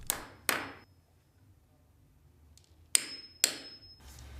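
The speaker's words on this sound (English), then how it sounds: "Using the string line as a guide, nail and punch the first board." Sharp hammer blows nailing and punching a timber floorboard during floor laying, two close strikes at the start and two more near the end with quiet between, loud and near with no talking.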